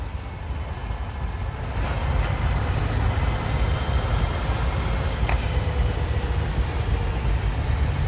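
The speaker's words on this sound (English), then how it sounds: "It's a 1976 Deutz Model D1006, owned by Troy Roush out of Lynchburg. It's a very interesting tractor. It's air-cooled, right?" A 1976 Deutz D1006 air-cooled tractor rolls by in an antique tractor parade, its diesel engine chugging in a steady, fairly loud low rumble that holds on with outdoor background noise.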